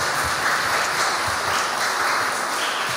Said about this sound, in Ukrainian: Пані та панове, ваші оплески